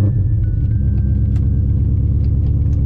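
A Ford Mustang Foxbody fitted with a Gen 3 Coyote engine idles with a deep, steady rumble close by after firing up, its low throb continuous and fairly loud.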